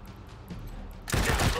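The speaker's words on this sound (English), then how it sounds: "Then Quan can shoot steel trap here." Gunfire from the tactical role-playing game Wasteland 3: soft ambient game background and faint clicks give way to a sudden louder burst of noisy shooting that continues to the end.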